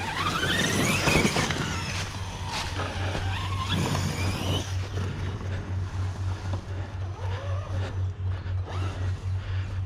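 A Traxxas Sledge RC monster truck revs its electric motor in loud, squealing bursts, with tyres spinning and scrabbling on soft, muddy ground over a steady whine that persists throughout.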